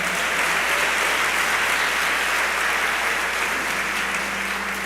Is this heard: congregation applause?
yes